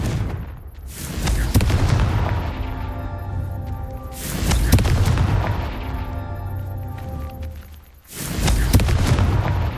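A Confringo fire spell in the Hogwarts Legacy video game sets off repeated heavy booming blasts, three big explosions with rumbling tails and ringing debris between them, loud and close with no speech.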